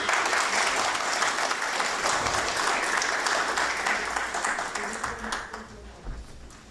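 At an Islamic Union conference, an audience applauds to welcome a speaker to the podium: thick, loud clapping from many hands that stays full for several seconds, then thins and fades out near the end.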